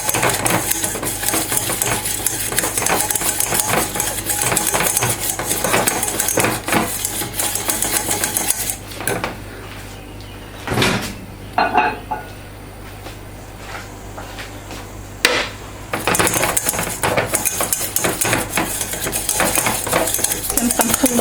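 A utensil scrapes and clinks against a bowl in a fast, steady rhythm as eggs and butter are stirred together. The mixing pauses briefly partway through, then resumes just as busily.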